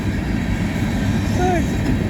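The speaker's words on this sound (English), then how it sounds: "This is a Canadian National train." A Canadian National train rolls past near woods at a Michigan county park, a steady loud low rumble with faint squeal tones, filling the whole moment without talk.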